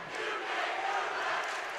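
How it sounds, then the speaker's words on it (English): Crowd at a Pulaski boys' high school basketball game shouting and jeering in protest at a referee's call, a dense, fairly distant roar held steady for a couple of seconds with no clear voices standing out. "that's a Pulaski crowd, I guess, saying you can't do that"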